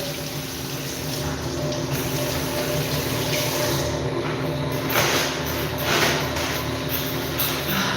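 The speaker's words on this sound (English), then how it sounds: "I wash my hands" A tap runs steadily into a sink while someone washes their hands, a close, continuous rushing flow with slight splashy changes as the hands move under the stream.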